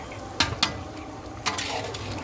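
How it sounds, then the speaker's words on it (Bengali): Curry being sautéed in a home kitchen pan: a soft, steady sizzle with a few sharp clinks of a spoon stirring against the metal, quiet and close, with no talking. "কষানো চলছে"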